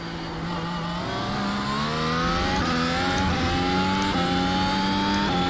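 A racing car engine in a sim racing game drones loudly and steadily, its pitch stepping in small jumps as gears change, with no voices over it.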